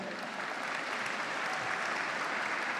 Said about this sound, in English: Let us have a big round of applause for our Palestinian lecturers and friends.